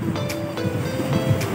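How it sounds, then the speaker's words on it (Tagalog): Steady rushing wash of sea waves at Little Boracay beach in Kalamansig, Philippines, with wind noise, fairly loud and continuous, a few brief surges breaking through. "medyo malakas yung alon"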